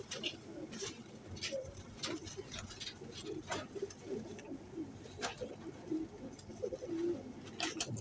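Rampuri high-flying pigeons coo softly in a loose, continuous murmur, with wing flutters and sharp clicks or taps scattered through and a voice faintly present.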